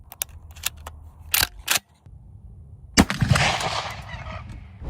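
A 12 gauge shotgun firing a slug at a target: a loud blast with a long, rumbling decay, preceded by several sharp mechanical clicks and snaps as the gun is handled.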